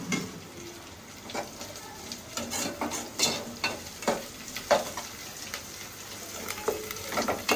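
Garlic frying in hot oil in a home kitchen, a steady close crackle broken by several sharp stirring scrapes against the pan, with no voices.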